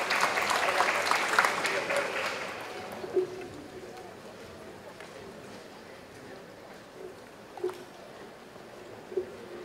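Audience applause for a keynote speaker at an international circular economy forum, loud dense clapping for the first few seconds that fades into a quieter hall with scattered claps and murmuring.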